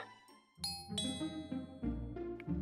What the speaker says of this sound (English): That was just the doorbell.